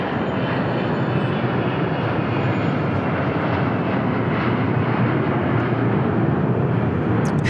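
A Bombardier Global business jet at Dallas Love Field gives a loud, continuous broadband engine roar that holds steady throughout, with no voices.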